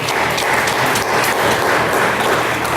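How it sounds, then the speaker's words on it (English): A school board honors ceremony crowd gives a team coach a round of applause: loud, dense, continuous clapping from many hands filling the whole stretch, with no voices over it. "Let's give him a round of applause."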